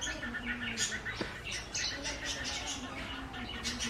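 A sparrow and its chicks chirping near a nest, thin high tweets repeating in quick bursts at close range, with a person talking softly underneath.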